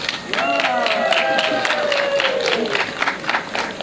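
Sideshow crowd at a fair applauding and cheering, with scattered clapping beneath a loud voice that speaks and exclaims over it.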